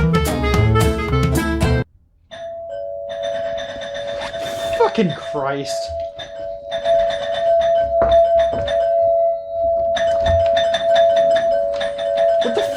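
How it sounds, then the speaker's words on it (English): A household doorbell chimes with a sustained ringing tone, repeated in bursts, while people talk and swear nearby indoors. "What the fuck are you ringing the doorbell for?"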